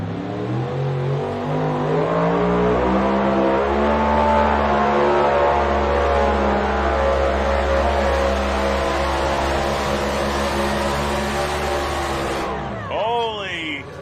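Three-engine pulling tractor at an NTPA truck and tractor pulling championship in Bowling Green, roaring at full revs in a loud, sustained, rising howl for about twelve seconds before cutting off abruptly, with an announcer talking over it.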